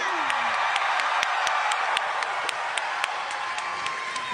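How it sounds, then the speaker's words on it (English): A studio audience applauds and cheers for Hasan, steady dense clapping with some whoops, at close range and sustained for a few seconds. "Round of applause for Hasan"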